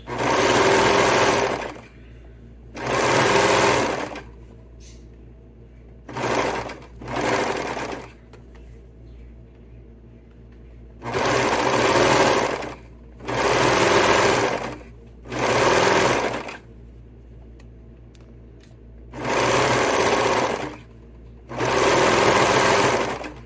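Sewing machine stitching two edges of a winter beanie together, right sides facing, in a series of short loud bursts separated by pauses, very close.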